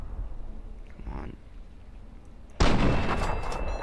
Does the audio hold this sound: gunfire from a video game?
yes